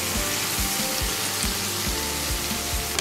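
Garlic, green chillies and onion fry for vegetable chowmein noodles in a hot pan, a steady close sizzle broken by regular low thumps of stirring, with no voices.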